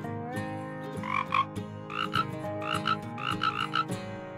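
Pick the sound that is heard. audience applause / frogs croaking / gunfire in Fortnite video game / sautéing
frogs croaking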